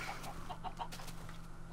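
Chickens in a video game cluck in short, faint bursts, several quick clucks scattered across a steady low background hum.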